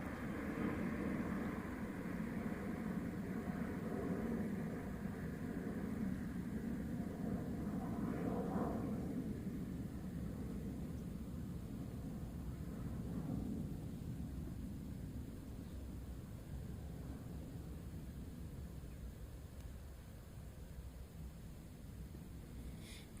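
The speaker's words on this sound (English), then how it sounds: "And then we have the 777 from Dallas, American Airlines" Boeing 777 jet airliner of American Airlines from Dallas at Dublin Airport, a steady broadband roar throughout that swells briefly midway, then eases slightly as it passes, with no voices over it.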